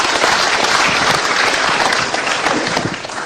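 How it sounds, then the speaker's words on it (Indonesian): Studio audience at an Indonesian television talk show breaking into loud applause, a thick, continuous burst of clapping from many hands lasting a few seconds. "mari kita tepuk tangan untuk umat Islam Indonesia"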